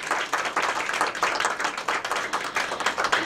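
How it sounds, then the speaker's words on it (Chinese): Audience members clap to welcome the organising committee chairman at an education conference session, a moderately close, rhythmic patter of hands that pulses in uneven bursts throughout. "让我们掌声欢迎他。"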